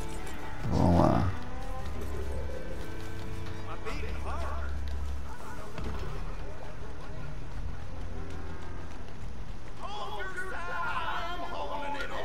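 Large cows moo outdoors, with one loud low call near the start and fainter lowing later, over steady wind-like ambience and occasional talk.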